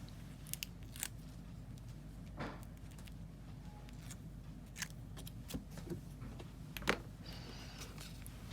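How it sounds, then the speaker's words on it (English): Adhesive backing peeled off during card making, heard as a few faint, sharp tearing rasps spread across quiet room tone. "Again, we tear off the opposite side here and should be good."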